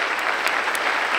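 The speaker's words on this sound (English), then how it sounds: "Please give them a round of applause." A memorial service audience applauds in a dense, steady burst of clapping, loud and close, with a few sharper claps standing out.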